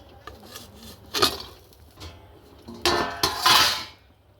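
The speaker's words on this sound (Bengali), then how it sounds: "থালাটাকে আস্তে করে বসিয়ে দেবো" A metal plate is set down into a pan inside a gas-stove oven, giving a few clattering metallic clanks, one light knock and then a louder cluster of scraping rattles near the end, with no voices.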